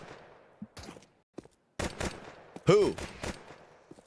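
Pistol gunfire in a Counter-Strike 2 esports match: several sharp, close shots in quick succession, layered with an excited commentator talking over the action.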